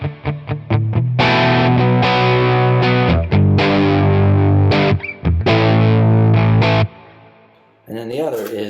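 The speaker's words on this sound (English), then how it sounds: "And then our rhythm sounds, one is just the Benson by itself." Electric guitar chugs through a distorted rhythm tone from a Benson amp capture, with strummed chords and choppy muted stops, loud and upfront, ending in a decaying tail.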